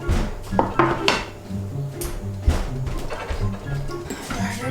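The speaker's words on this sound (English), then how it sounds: "I dropped the metal spoon in." A metal spoon clatters into a bowl during baking, with a few clinks and scrapes of dishes close by while people talk.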